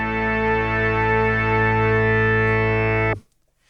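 A sustained Arturia PolyBrute synth chord with vintage voice modeling, warm, rich, slightly distorted tone, held steadily for about three seconds before cutting off abruptly into silence.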